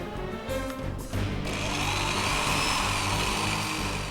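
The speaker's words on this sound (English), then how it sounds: "This drill bit is diamond tipped, one of the hardest materials known to man." A diamond-tipped drill bit grinds into a marble hearth, a dense whining roar that starts after brief stops and then runs continuously and loud; no talking.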